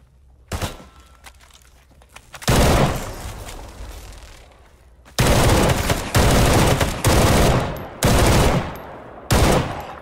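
Gunfire in S.T.A.L.K.E.R. GAMMA, loud bursts of automatic weapon fire in several separate volleys with short pauses between, one early single shot, no talking.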